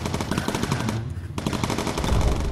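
Rapid machine-gun bursts rattle from an RAF Lancaster bomber's turrets in the video game Bomber Crew. The fire is loud and close, with a brief pause before the bursts resume.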